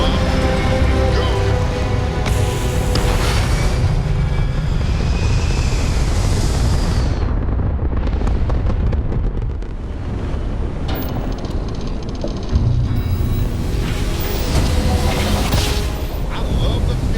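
A spaceship takes off in Starfield with a loud, dense roar of engine thrust and rumble that fills the whole stretch, dipping briefly midway before surging again.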